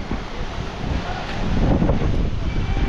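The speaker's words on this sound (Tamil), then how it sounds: "காற்று பயங்கரமாக அடிக்குது. வின்னாய்ஸை இக்னோர் பண்ணிவிடுங்க." Strong wind buffets the microphone on a hilltop at Mahabaleshwar during monsoon rains, a steady loud rumbling roar that builds slightly toward the end, with no talk.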